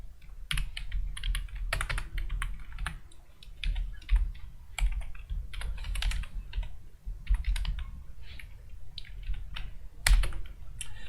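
Keys clatter on a computer keyboard in irregular bursts of quick taps with short pauses between them, close and fairly quiet, while someone writes code, with no talking.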